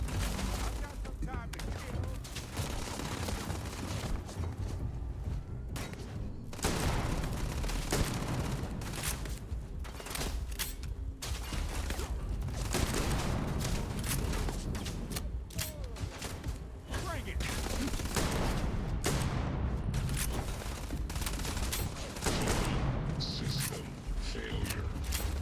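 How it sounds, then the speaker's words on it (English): Rapid gunfire and booming explosions from a sci-fi shooter game, Starfield, rattle on continuously and loudly throughout, dense bursts stacking on each other with a voice talking over parts of the action. "A lot of explosions."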